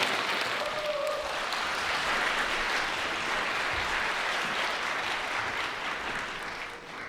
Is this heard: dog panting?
no